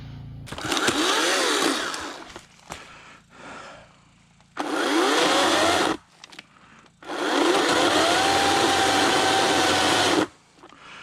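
A Ryobi 40V brushless electric chainsaw, left overnight in a cold Jeep, revs up in three separate bursts. Each burst is a loud, high motor whine that climbs in pitch, with short quiet gaps between; the last burst runs longest.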